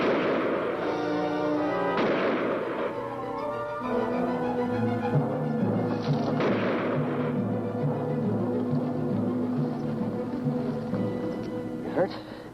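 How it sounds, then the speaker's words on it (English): Gunshots ring out in an old sci-fi monster film, a few sharp blasts fired over a creature's head, separated by pauses amid tense soundtrack tones and voices. "Fire over its head!"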